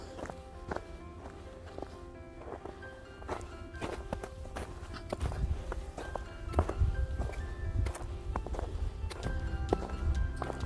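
Steady crunching footsteps with cleats on a packed, icy snow trail up a steep slope, a regular close stride that grows slightly louder over the clip.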